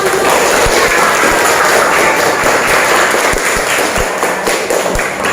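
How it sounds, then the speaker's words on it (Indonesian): Steady applause from a group in a classroom lesson, dense and continuous, with a few sharper thumps scattered through it. "iya, tepuk tangan."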